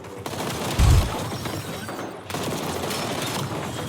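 Pistol fire in the video game Black Ops 7: rapid shots over a dense, busy wash of gameplay noise, with one heavier, booming burst near the start and no speech.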